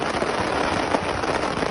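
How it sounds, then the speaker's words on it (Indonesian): Fireworks bursting in all directions at a festival in Pamekasan, East Java, after their support pole collapsed; a dense, continuous crackle of small pops and sizzling bursts, steady and fairly loud, with no voices. "Video amatir warga memperlihatkan kembang api yang meledak ke segala arah"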